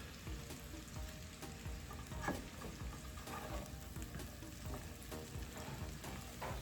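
Onions sizzle and crackle steadily in a crowded pan coated with butter, with soft scraping and stirring sounds throughout, close and continuous with no talk.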